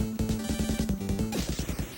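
Retro video game Jackal with rapid chiptune blasts and bangs from explosions, a quick repeated pounding over a buzzing tone, then a burst of noisy crackle at the end.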